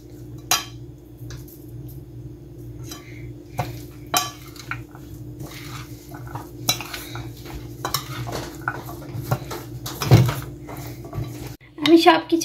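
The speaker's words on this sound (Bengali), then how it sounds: "আমি সবকিছু একত্রে মেখে নিয়েছি।" Tuna filling being mixed with mayonnaise and black pepper in a bowl, a steady run of spoon scrapes and clinks against the dish, close and fairly loud, with a sharper clatter near the end.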